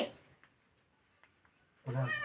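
A domestic cat gives one loud, close meow near the end, after a stretch of near silence broken only by a few faint ticks.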